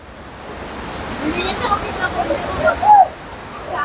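Tinuy-an Falls in Surigao, a broad steady roar of falling water that builds and surges, with faint voices in the background.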